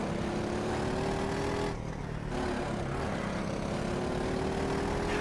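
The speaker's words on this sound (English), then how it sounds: "I also love the sound. It's very familiar with the 4-stroke Honda engine essentially." Four-stroke Honda kart engine in the Automobilista 2 racing game, droning close and steady at high revs with a brief lift and dip before it pulls back up, no voices.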